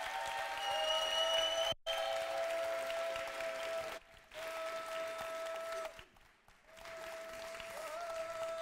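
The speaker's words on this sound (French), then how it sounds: "je vous demande un tonnerre d'applaudissements." Applause from the audience at a French song contest final for blind and visually impaired artists, a steady wash of clapping with a sustained tone running through it, interrupted by brief dropouts.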